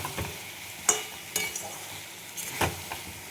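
Bottle gourd being stir-fried with spices in a pan, a soft sizzle under a few sharp spatula clicks and scrapes against the pan, fairly quiet overall.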